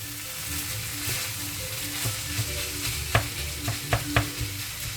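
A meat, potato and rice gratin mixture stirred in a pan over the heat, a steady sizzle broken by a run of distinct scraping strokes and knocks that grow stronger toward the end.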